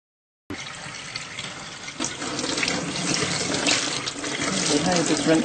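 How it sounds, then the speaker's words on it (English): Running tap water pours steadily into a sink, rinsing salt and curing mix off pieces of pork being made into homemade bacon, a continuous close splashing rush that grows slightly louder. "just rinsing the salt and cure it off the bits of bacon, or about to be bacon"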